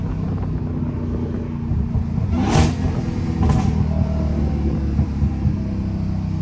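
A Dodge Hellcat with a mid muffler delete rumbles deeply and continuously from inside the car, with two brief sharp bursts as the engine is blipped, loud and close.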